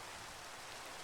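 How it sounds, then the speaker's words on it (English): Steady rain in the Minecraft video game, a continuous even hiss of falling drops with no talk over it. "Because it's raining, plus I'm traveling quickly."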